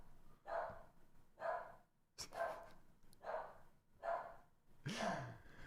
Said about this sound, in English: My dog is just going crazy right now.